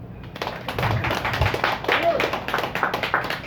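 A pub audience gives a burst of scattered, fairly close hand clapping that picks up and continues steadily, with a voice speaking faintly underneath.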